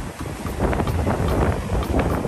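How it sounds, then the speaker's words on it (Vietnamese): Sea wind blows across a beach at night on the Cua Tung coast, buffeting the microphone in a dense, rushing roar that rises and falls in gusts with no talk over it. "Gió biển thì thổi phù luôn."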